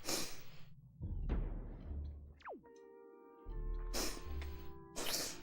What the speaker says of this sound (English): Sorry, I keep sniffing today.